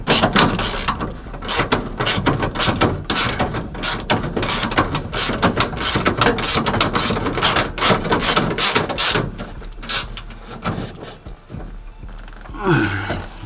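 Bolts being tightened on the passenger door window motor bracket of a Cutlass, a close, steady run of rapid ratcheting clicks and metallic rattles that keeps on for several seconds before easing near the end.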